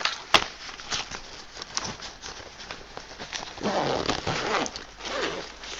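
The zip on a fabric art supply bag is pulled open close up, giving several rasping runs of the zipper teeth, with a longer, fuller zipping stretch near the end and handling rustles between.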